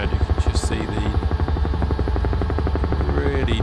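A UH-1 helicopter flies in Microsoft Flight Simulator 2024, its rotor chopping in a fast, steady rhythm over a deep engine drone, loud and constant throughout, with someone talking over it.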